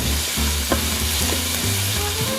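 Onion and celery sizzle hard in a pan over very high heat, a loud, steady frying hiss with a few sharp spatters and stirring scrapes, close up and with no talking.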